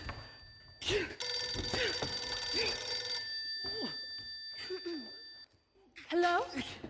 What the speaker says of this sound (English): Oh, is that the phone I hear ringing?